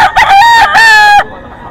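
A rooster at a poultry market in Bocaue, Bulacan crows loudly and close by in one strong, drawn-out call that breaks off abruptly, leaving quiet background noise.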